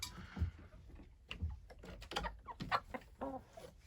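Rooster and hens on a small household farm, a few clucks and short calls up close, repeated in uneven bursts across a few seconds, with soft thumps in between and no one speaking.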